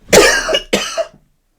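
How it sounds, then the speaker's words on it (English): Two loud, close coughs in quick succession, then silence. "I'm going to cough."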